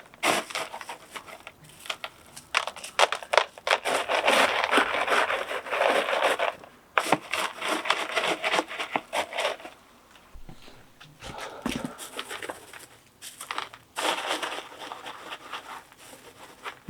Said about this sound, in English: I want to be able to wiggle the tree compared to the pot to really move that substrate between the lower roots